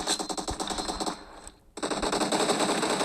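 Rapid automatic gunfire from a shooter video game rattles in loud, dense bursts, breaks off for a brief pause, then resumes in a sustained stream.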